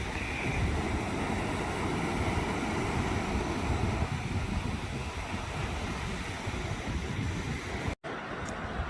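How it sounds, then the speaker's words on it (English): Surf washes onto a Gulf Coast beach at Orange Beach, Alabama, as a continuous broad roar mixed with wind buffeting the microphone, with a brief dropout just before the end. "got some waves out there"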